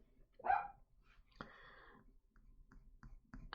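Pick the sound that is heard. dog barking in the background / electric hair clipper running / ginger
dog barking in the background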